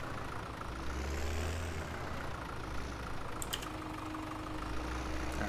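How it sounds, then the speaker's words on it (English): A tractor pulling a seeder runs at near full speed in Farming Simulator 17, a steady low engine drone with a constant mid-range hum and a couple of faint clicks, no talk. "my tractor I think is going basically full speed"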